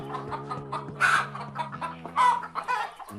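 A cartoon chicken clucking in agitated bursts as it is grabbed, close and fairly loud, several sharp squawks over a low steady backing tone.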